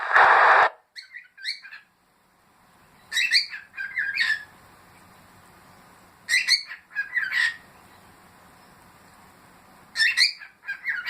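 Bird chirps and tweets come in several short, bright bursts spaced a few seconds apart, fairly loud and close, with quiet, faintly hissing gaps between them and no talking.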